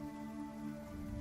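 A soft, steady wash of rain patters without a break in a tabletop role-playing game scene, faint and even throughout, with a few low tonal hums underneath.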